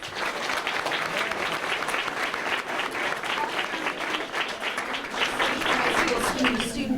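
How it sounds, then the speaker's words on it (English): A crowd gives sustained, steady applause for a high school athlete signing to play softball at UT Arlington, dense clapping throughout with a voice faintly over it. "let's give her a round of applause."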